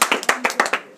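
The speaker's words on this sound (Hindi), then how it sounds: "तालियां भी होनी चाहिए" Several sharp, loud handclaps in a quick, fairly regular rhythm ring out close by, about six claps in under a second, from an audience at a political speech.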